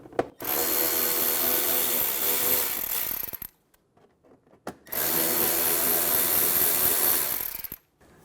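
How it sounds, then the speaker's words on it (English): A power driver with a T20 bit backs screws out of the rear inner fender liner of a 2012–2020 Chevrolet Sonic, with two loud sustained whirring runs split by a short pause filled with faint clicks, close up. "Using a T20 bit, remove the screws in the rear of the fender well."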